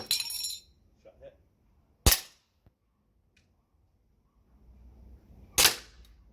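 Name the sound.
SG09-R pistol shots in the video game Resident Evil 4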